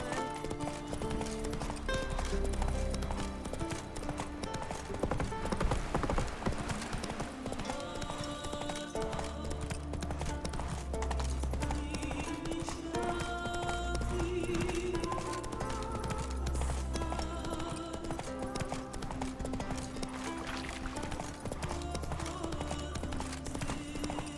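Hooves of a horse clop steadily in the video game The Witcher 3, a rhythmic galloping beat under music and occasional spoken dialogue.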